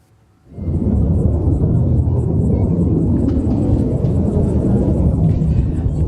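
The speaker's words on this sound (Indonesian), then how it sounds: "Pesawat jet tempur Israel terus melakukan serangan di permukiman warga di Lebanon Selatan" An Israeli fighter jet roars over southern Lebanon, a loud broadband rumble that swells in abruptly after a quiet start and holds steady and close for several seconds.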